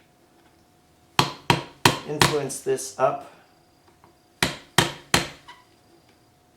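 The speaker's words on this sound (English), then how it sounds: "I'm going to take a screwdriver and just carefully tap with a hammer" A screwdriver struck with a hammer to free an axle bearing on a Pontiac Fiero 3800 swap, sharp metallic taps in two close bursts, three or four hits each, with brief talk between them.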